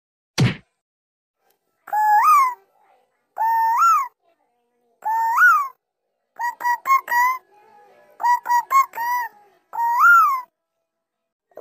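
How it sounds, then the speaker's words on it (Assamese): A koel calls in an Assamese cartoon, sounding as a series of clear, rising whistled notes, some single and some in quick runs, after one sharp thump at the start. "কুলিৰ মাতটো শুনিলে যে বহুত ভাল লাগে"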